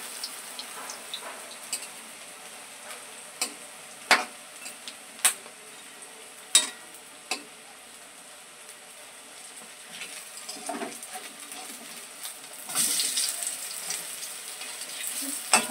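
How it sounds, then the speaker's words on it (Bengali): Pieces fry in oil in a wok, a faint steady sizzle broken by sharp scraping clicks and clatters as they are flipped one after another, then a louder burst of sizzling near the end. "এক পিঠ করে লাল করে ভাজা হয়েছে, দেখতে পাচ্ছ লাল হয়েছে কেমন। এবার আমি সবকটা আস্তে আস্তে করে উল্টিয়ে দিই।"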